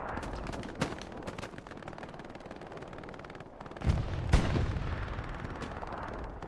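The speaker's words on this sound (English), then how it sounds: "Looks like something blew up here." In the World War II shooter Hell Let Loose, scattered gunfire crackles in the background, then a couple of heavier blasts land close together, followed by a rumbling tail.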